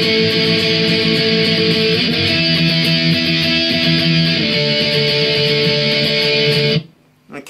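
Guitar strumming the chorus of a song, with sustained strummed chords changing every couple of seconds, loud and close, ending abruptly with a short muted pause.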